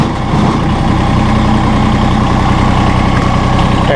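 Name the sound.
Massey Ferguson sub-compact tractor engine while lowering loader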